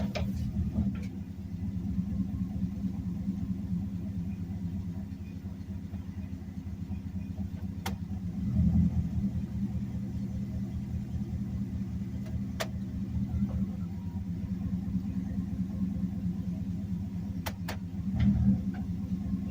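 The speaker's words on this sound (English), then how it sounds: "Okay, we're idling and drive." Chevy engine with a 4L60E automatic transmission idling in drive with the foot on the brake, a steady low rumble throughout with a couple of slight swells and no talking.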